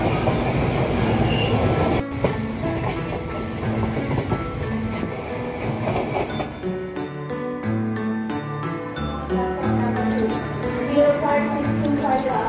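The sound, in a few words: train running at night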